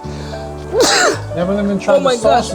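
A sudden sharp sneeze bursts out amid close conversation in a kitchen filled with strong, spicy ghost pepper hot sauce fumes, followed by more talking.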